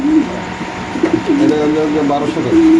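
Racer pigeons coo repeatedly up close in soft, rolling phrases, with a person's voice faintly mixed in among the calls.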